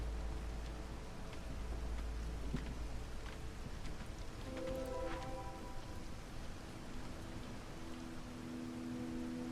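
Steady storm rain pours in the video game Against the Storm. The downpour is a continuous hiss, with a deep rumble early on and faint tonal game chimes layered in partway through.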